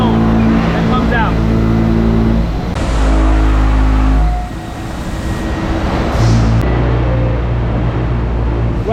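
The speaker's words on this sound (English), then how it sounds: "Right now what you're looking at is called an automatic finger car. It's a giant robot." A giant automatic finger car robot runs in a paving stone plant, giving a loud, continuous industrial machinery drone with low hum and clanking that shifts in pitch as it moves, with a brief dip partway through.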